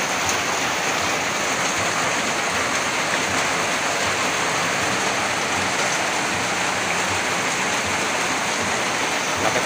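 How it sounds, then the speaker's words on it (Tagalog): Strong floodwater current rushing through a roadside canal during heavy rain, a loud, dense, continuous roar of churning water with no pauses, close and steady throughout. "Lakas ng agos ng tubig."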